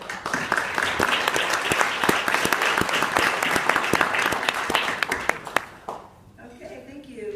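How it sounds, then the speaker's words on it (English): A roomful of people at a tech enterprise event breaks into loud, dense applause with sharp individual claps standing out, then it fades abruptly near the end as a voice begins speaking. "Let's give them all a round of applause."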